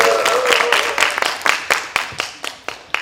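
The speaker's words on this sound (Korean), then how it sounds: "큰 박수 한번 주시기 바랍니다." An audience at a conference session claps, starting as full applause and thinning into scattered, distinct individual claps that fade out toward the end.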